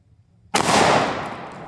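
A single loud, close 12 gauge shotgun blast firing double-aught buckshot from a Mossberg Shockwave 590, a sharp report after near silence that rings out and decays slowly.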